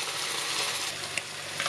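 Pork belly slices fry in hot oil until golden, giving a steady, close, dense sizzle that holds level throughout with only a couple of faint pops and no talking.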